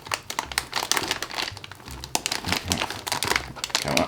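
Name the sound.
pulling a motherboard out of its packaging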